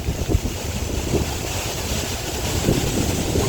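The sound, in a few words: strong wind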